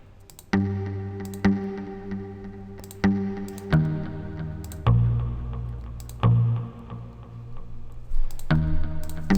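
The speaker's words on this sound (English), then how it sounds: "So let's just click some stuff in here." Mouse clicks in music production software, a scattered series of sharp, close clicks at irregular intervals, with bursts of plucked synth and muted pad notes sounding after many of them and no talking.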